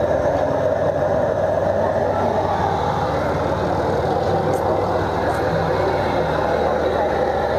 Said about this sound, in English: getting ready to start a hot dog tractor.